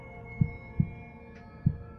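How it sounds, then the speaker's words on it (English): Heartbeat sound effect with three deep, muffled thumps at an uneven spacing over a low steady hum, with no speech. "All you can hear is your heartbeat."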